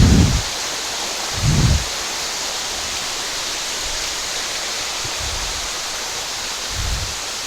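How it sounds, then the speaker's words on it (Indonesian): Ngesong waterfall at Ngablak, on the western slope of Telomoyo, gives a steady, even roar of falling water, broken by a few brief low thumps. "air terjun Ngesong yang ada di Ngablak"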